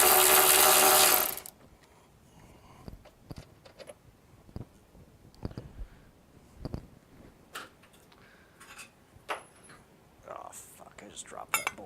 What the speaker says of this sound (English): I just dropped that bolt somewhere.